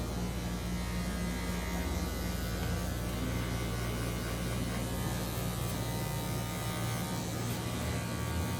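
An electric hair clipper with a medium guard buzzes continuously and close while cutting a fade in a barbershop, a steady motor hum with no pauses and no talking.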